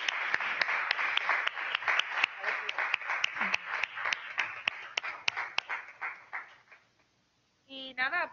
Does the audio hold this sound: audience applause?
yes